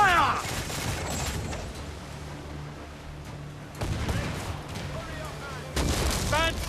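Ship cannons fire in a volley during an Assassin's Creed IV: Black Flag naval battle, with a heavy burst at the start and fresh booming blasts near four and six seconds over a continuous rumbling battle din, with a voice calling out.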